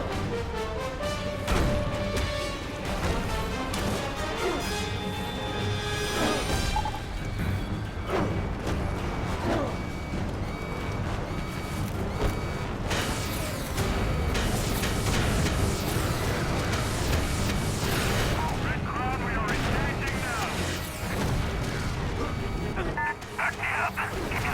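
Grenade launcher explosions in the video game Prototype, repeated crashing blasts and thuds amid chaotic game noise, spread across the clip with a person talking over parts of it.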